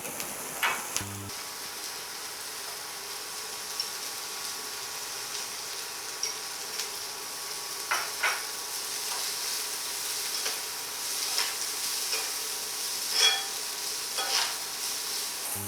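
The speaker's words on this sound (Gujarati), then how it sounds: "હવે આપણે આમાં થોડુંક બટર નાખીશું." Butter sizzles in a pan while corn chaat is being made, a soft, steady frying hiss with occasional faint clinks and stirring scrapes at a low level.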